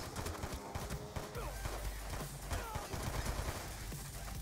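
Rapid gunfire rattles through a Call of Duty Black Ops 2 mission in the Cayman Islands, with dense bursts and shots in fairly continuous succession at moderate loudness.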